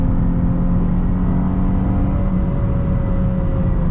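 A 2021 Chrysler 300S V6 sedan in sport mode accelerating hard at speed, a steady loud engine drone with a rising tonal whine over constant road and wind rumble, heard from inside the cabin.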